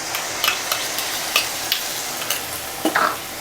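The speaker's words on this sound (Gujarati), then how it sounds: "તો ડુંગળી ચડી ગઈ છે તો હવે તેમાં ટામેટાની પ્યુરી એડ કરી લઈશું।" Tomato puree hits frying onions in a pan while cooking dal makhani, giving a steady sizzle broken by a few light stirring scrapes and clicks of a spoon, with no talking.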